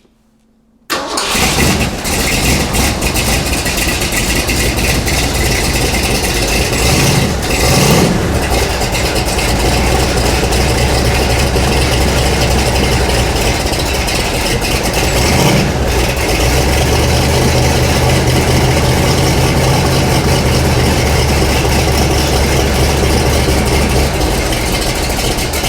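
An ERA Cobra 427 replica cold-starts after a moment of silence, its V8 catching instantly and settling into a loud, steady, rumbling idle that runs on close by with a few slight revs.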